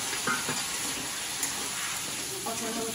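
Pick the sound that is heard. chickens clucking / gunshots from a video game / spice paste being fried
spice paste being fried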